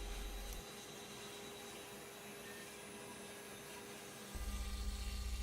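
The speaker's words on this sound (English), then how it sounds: "The final outside shape is being cut with a 1/2 inch end mill" A CNC router cuts the final outside profile of a wooden workpiece with a 1/2 inch end mill, giving a steady, loud whining roar that swells louder near the end.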